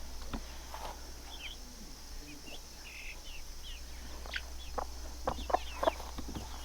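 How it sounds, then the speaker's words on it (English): Chicks in a barn give scattered soft clucks and peeps, faint at first and growing busier toward the end, over a steady low hum. "let's go check on those chicks, see how they're doing"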